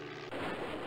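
An airplane crash explosion in the Flight Simulator video game lands as a sudden dull boom that swells into a rumbling roar, brief and loud, with no talking.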